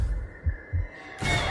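A deep, thumping heartbeat effect in a Spider-Man movie, three low pulses at a steady rhythm before a sudden burst of broad noise cuts in.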